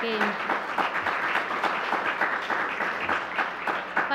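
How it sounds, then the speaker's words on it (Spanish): Steady applause from a seminar audience, a dense wash of many hands clapping at moderate volume, sustained throughout with faint voices mixed in. "le pediríamos un aplauso para darle esta bienvenida"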